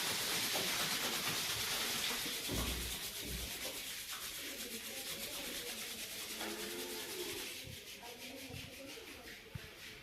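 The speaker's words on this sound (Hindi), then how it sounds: "हाथों को जोर से रब कीजिए।" Palms rub hard and fast together during a guided meditation session, a loud continuous dry swishing friction that fades slightly toward the end, with no voice over it.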